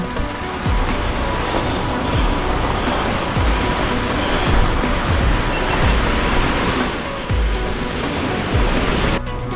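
Gulpur waterfall in Azad Kashmir rushing over sandstone, a loud continuous broadband roar of falling water with occasional low thumps.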